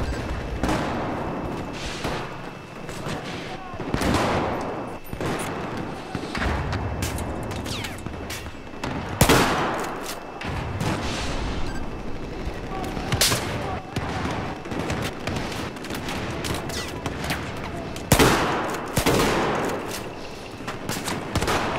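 AEK rifle gunfire in Battlefield 4 comes in repeated rapid bursts, with louder booming hits and explosions mixed in, set in a Paris metro map as a player talks intermittently in French.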